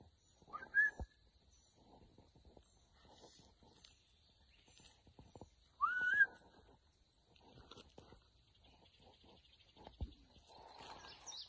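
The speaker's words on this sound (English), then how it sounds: "That's him whistling back." Two short, rising whistles sound about five seconds apart over a quiet background with faint scattered clicks and thumps.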